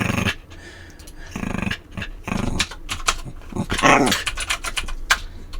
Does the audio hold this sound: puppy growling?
yes